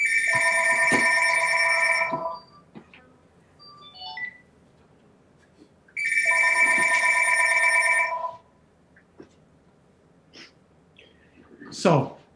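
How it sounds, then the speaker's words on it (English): A telephone rings in two long bursts of bright electronic tones during a symposium talk, loud and close, with quiet gaps and a short chirp near the end. "Excuse the phone."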